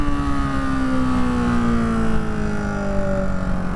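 A 2024 Husqvarna-style Hypermono 698 single-cylinder motorcycle engine, loud and close, its pitch dropping steadily as revs fall after a short wheelie, with a strong droning tone and no talking.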